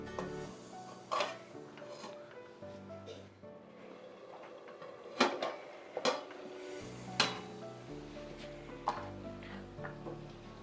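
A lid is set over a kadhai of chicken on the stove, a few sharp metallic clanks and clinks of pot and lid over a faint sizzle, separated by quiet gaps.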